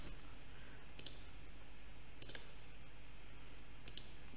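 Computer mouse clicks while working in SOLIDWORKS, three crisp, quiet double clicks spaced about a second apart over a steady low hiss, with no talking.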